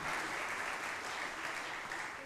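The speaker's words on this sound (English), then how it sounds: "you can clap here" Audience applause for children at an awards ceremony, a dense, even wash of clapping held steady for a couple of seconds with no break.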